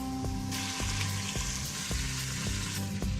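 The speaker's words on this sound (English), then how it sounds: "So this searing really bumps up the flavor of the meat." Pork sears loudly in a pan on a high sauté setting, a dense, constant close sizzle with a faint regular ticking repeating about every half second underneath; no voices.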